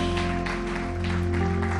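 A church congregation claps for God during a worship service. The clapping is steady and rhythmic, with loud sustained music and singing running underneath.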